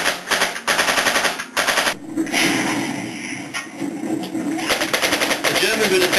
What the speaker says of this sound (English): The British were being mowed down by German machine gun fire